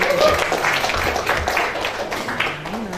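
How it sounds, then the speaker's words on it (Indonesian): Audience applause at a corporate MoU signing event, brisk clapping from a gathered crowd, close and fairly loud, with some voices audible under it. "Tepuk tangan dong buat Mbak Elma dan teman-teman."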